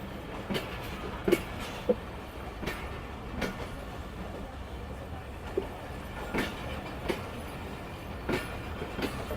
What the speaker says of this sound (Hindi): तो ये देखें जा रही है अवाम एक्सप्रेस।